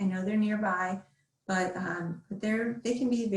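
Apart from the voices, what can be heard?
None of the usual background noises is heard.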